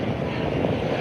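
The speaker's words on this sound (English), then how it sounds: "All right, check this plane out right here. Coming right here." A plane, apparently the one that crashed near Boca Raton, Florida, short of the runway, drones with a steady, loud engine rumble that holds throughout the brief moment, with no talk over it.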